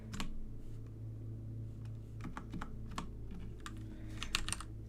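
Rapid, irregular clicking of computer keys as someone types at speed while coding in Python, close and fairly quiet over a steady low hum, with no talking.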